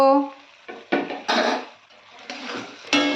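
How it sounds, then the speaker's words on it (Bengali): Fried pointed gourds tip into a pan of spice masala, followed by a run of close clattering stirs and scrapes, with a voice speaking between the knocks. "এবার ভেজে রাখা পটলগুলো সব দিয়ে দেব"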